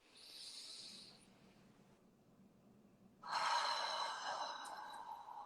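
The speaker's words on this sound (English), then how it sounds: "take a nice deep breath in" A slow, deep breath drawn in through the nose, close and quiet, followed by a louder, airy exhale that fades out.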